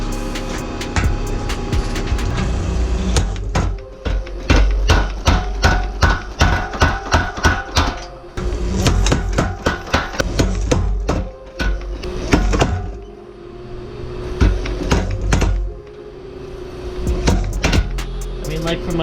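A hammer strikes hot steel while forging troughs into a 3.5 lb rounding hammer head, delivering loud, rapid ringing blows in bursts with brief pauses between.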